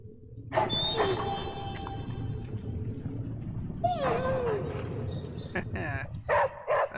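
Dog barking in the Midnight Suns video game, a few short yips and barks mixed with game music and ambience, heard under a speaking voice.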